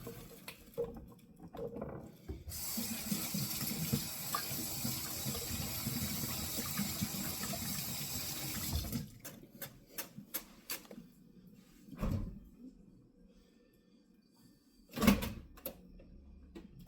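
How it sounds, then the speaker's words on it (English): Water from a kitchen tap runs steadily for several seconds as hands are washed at a sink between meatloaf preparation steps, then cuts off, leaving a few scattered clicks and thumps. "let me wash my hands real quick"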